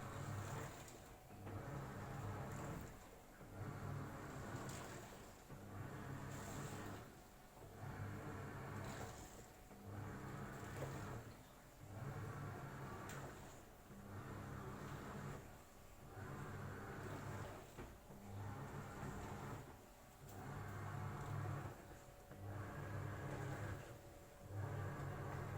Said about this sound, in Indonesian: suaranya, suara dari mesin cuci ini